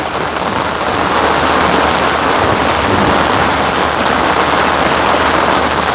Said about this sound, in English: Hope y'all are enjoying the sounds of the rain as it falls from my